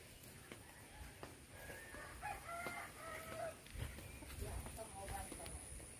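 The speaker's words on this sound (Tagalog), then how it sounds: "Chicken." A neighbour's rooster crows in a residential yard, its call rising over steady background noise, with a few short clucks and bursts scattered through; faint voices can be heard.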